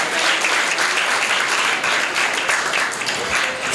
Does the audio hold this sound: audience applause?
yes